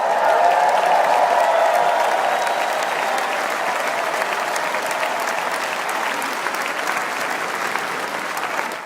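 A large crowd at the Republican National Convention applauds loudly and continuously, a dense wash of clapping that fades only slightly over several seconds, with no clear voices above it.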